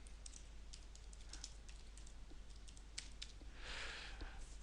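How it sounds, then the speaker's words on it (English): Fingers tap out a search on a computer keyboard in quick, uneven bursts of soft clicks and keystrokes, faint and close, with a brief denser flurry near the end. "so I type in search"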